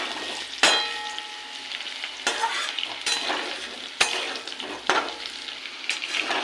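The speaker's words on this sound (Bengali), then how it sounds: "আলুটাকে আরও লাল করে ভাজবো।" Potatoes fry in hot oil in a pan, a steady loud sizzle punctuated by sharp clanks of a spatula stirring every second or so, with no voices.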